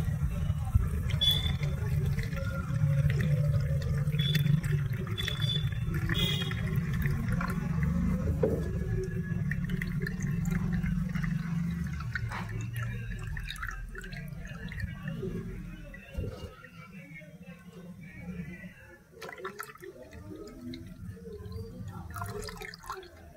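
A garlic and curd organic pesticide liquid is strained, a steady low trickle of liquid that thins into scattered drips as it goes on.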